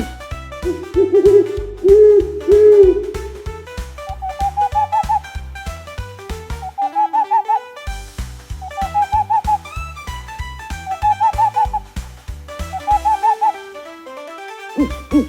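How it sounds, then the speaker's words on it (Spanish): An owl hoots in a forest setting, repeated soft two-part hoots that rise and fall over a steady rhythmic musical backing, clear and moderately loud. "Es el búho."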